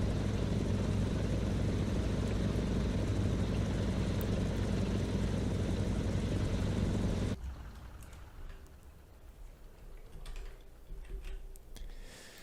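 Fokker D.21 propeller engine in Microsoft Flight Simulator, a loud steady droning hum that cuts abruptly to a much quieter ambient background partway through.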